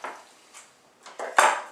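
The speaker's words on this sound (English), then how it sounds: "So I just take my knife and just kind of hollow out the tomato," A kitchen knife working into a tomato to hollow it out, giving a few short, soft scraping and clinking bursts close by, with a louder clatter near the end.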